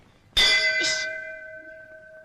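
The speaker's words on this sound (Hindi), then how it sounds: "इसे यहाँ से खींचोगे तो वहाँ घंटी बजेगी।" A single sharp metallic ding from a pull-cord bell rings out and hangs with a long, clear tone that slowly fades, heard alone in a quiet room.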